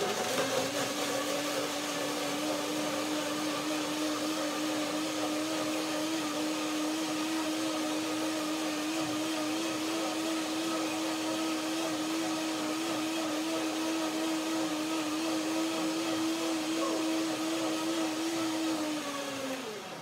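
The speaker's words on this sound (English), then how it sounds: "But now the first blender dance." Blender mixing frozen bananas, cashews, lemon and water: a steady, loud motor whine that runs without break for about nineteen seconds and then winds down at the end, with no talking.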